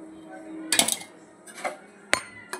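A utensil stirs a vegetable and fish curry in a pan with salt, turmeric and mustard oil, making a few brief metallic scrapes and clinks, the loudest near the start and two sharp taps later, close and fairly quiet.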